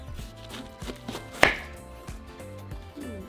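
A knife chops through a peeled watermelon on a cutting board, a series of close, crisp cuts with one sharp loud thud midway, alone without speech.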